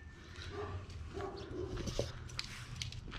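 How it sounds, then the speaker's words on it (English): Dogs playing outdoors, with scattered yips, whimpers and low growly vocal bursts over a rumbling background, fairly faint and close-ranging. "And my dogs are playing again."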